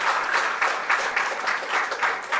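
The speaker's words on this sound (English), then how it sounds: "They'll just clap when they're told to." A debate audience breaks into a burst of applause, many hands clapping together in a dense, steady patter that rises and dips slightly over a couple of seconds.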